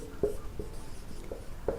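A pen scratches out numbers on paper, giving a few quiet, short strokes spaced apart in a soft, close scribble.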